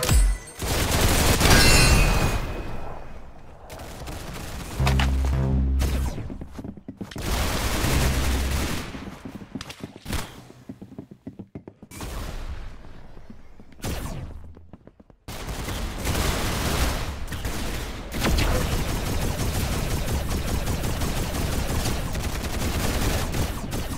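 Rapid gunfire from the Roblox shooter Arsenal crackles in dense bursts and volleys, loud and close, pausing briefly midway before resuming as a sustained barrage.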